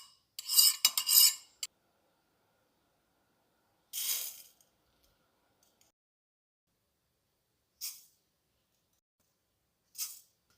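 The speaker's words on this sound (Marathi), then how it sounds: "आधी आपण सर्व मसाले भाजून घ्यायचे।" Spices dry-roasted and stirred in a pan for Marathi lemon-chili pickle, several short scraping bursts of a spoon against metal separated by silent gaps, the first burst longest and loudest.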